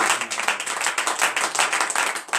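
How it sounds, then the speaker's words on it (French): A church congregation at a morning prayer service in Benin bursts into brisk, lively applause, many hands clapping close together in a continuous burst. "je vous invite à donner de vives acclamations"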